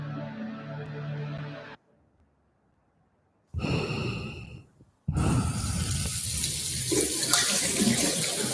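Water gushing from a leak indoors, flooding the floor: a steady, loud broadband rush fills the last few seconds, after a short tonal passage, a silent gap and a brief noisy burst, with no talking.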